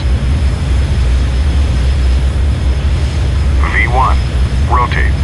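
Bombardier CRJ700 jet engines at takeoff thrust in Microsoft Flight Simulator, a loud steady low roar filling the whole clip, with a few short voice-like chirps near the end.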